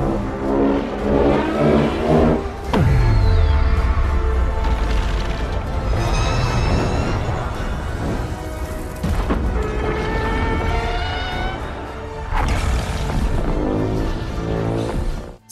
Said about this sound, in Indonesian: Godzilla melepaskan ledakan dahsyat yang menjatuhkan Ghidorah untuk selamanya